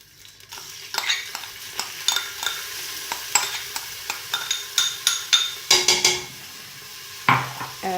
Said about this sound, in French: Je vais mettre le céleri